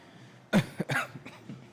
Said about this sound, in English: No, it's just a cough.